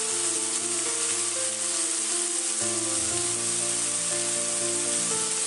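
Vegetables and mushrooms sizzle steadily in extra virgin olive oil in a pan, a constant close hiss of frying that carries on without pause or speech.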